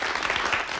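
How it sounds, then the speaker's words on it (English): A short, close burst of hand clapping, dense and even, lasting under a second. "Why are you clapping at that?"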